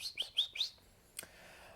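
A single insistent bird chirps four quick bright notes in a row, then pauses and gives one more sharp chirp, close and fairly quiet against a still background.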